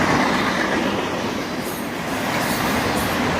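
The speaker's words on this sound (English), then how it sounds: "And here comes an old Conrail boxcar." A freight autorack train with an old Conrail boxcar mixed in rolls past close by in a loud, steady roar of wheels on rail, with faint squealing above the rumble.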